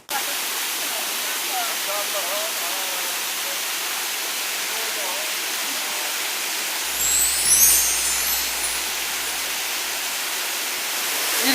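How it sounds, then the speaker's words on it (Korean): Steady broadband rush of a mountain waterfall at Gangcheonsan in Sunchang, loud and continuous throughout, with a brief low rumble and faint high chirps partway through. "폭포가 떨어지면서 여러분들을 환영한다는 표시를 하고 있습니다"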